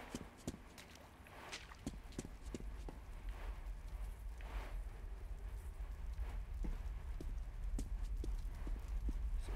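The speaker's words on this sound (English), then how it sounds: "Hear your footsteps, motherfucker." Footsteps in the video game Metro 2033 sound as a run of sharp, evenly paced clip-clop steps over a steady low rumble, close and fairly quiet, with no talk.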